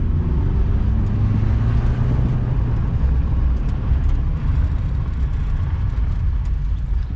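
An older car, likely a Chrysler product, driving on the road, a steady low engine rumble with road and wind noise from inside the cabin, continuous and fairly loud without speech.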